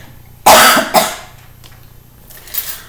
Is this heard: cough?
yes